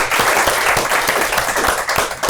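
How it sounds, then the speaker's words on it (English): An audience applauds steadily at an end-of-year school presentation, a dense, sustained wash of clapping from many hands filling the room at a loud, even level. "So, an amazing round of applause for all of"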